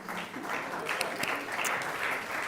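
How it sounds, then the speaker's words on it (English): Audience applause at a Food Tank, White House and Tufts Friedman event on food-is-medicine approaches, a steady wash of clapping at moderate level over about two and a half seconds, with a few sharper individual claps standing out. "you can give them a round of applause if you want"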